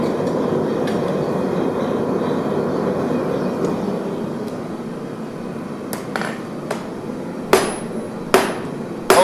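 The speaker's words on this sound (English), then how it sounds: "I guess I'm just gonna start forging." Metal forging at a forge: a continuous low roaring hum, then a few sharp ringing hammer strikes on metal near the end, loud and close.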